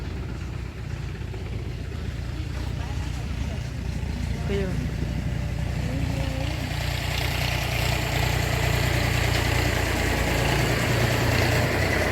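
A tractor engine idles on a farm field with a steady, loud low rumble that continues throughout, while someone talks over it.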